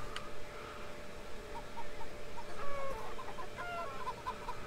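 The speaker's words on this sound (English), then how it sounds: "They are, in fact, a chicken." A chicken clucks in short repeated bursts near a farm gate in the video game Beyond Eyes, fairly close over a low steady background hum.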